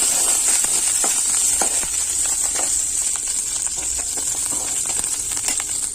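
Fennel seeds, mustard seeds, curry leaves and coriander sauté in hot oil in a pan for a snake gourd side dish, giving a continuous bright hissing sizzle with scattered small pops and spatters up close.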